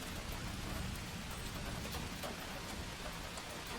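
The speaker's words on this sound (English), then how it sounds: "As the rain fades and the night deepens" Rain falls steadily at night in a dense, even hiss. Scattered sharper drops tap through it, and no one speaks.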